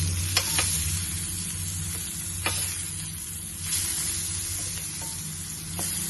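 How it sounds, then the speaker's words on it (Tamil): Eggplant frying in a pan gives a continuous, even sizzle with a low bubbling hum underneath and a few faint clicks, heard close and alone. "இப்போ அது ஃப்ரை ஆகின்னு இருக்குது."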